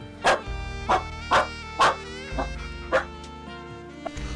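Laika-husky dogs bark in a large kennel enclosure, about six sharp, evenly spaced barks from a moderate distance, ringing over a steady background of music.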